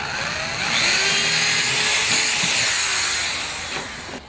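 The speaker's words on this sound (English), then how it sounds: "I'm going to drill a hole right in the middle there" A power drill with a 1/4-inch bit bores a hole through the middle of a part for a homemade vertical wind turbine, giving a continuous loud whirring hiss for about four seconds that eases off slightly toward the end.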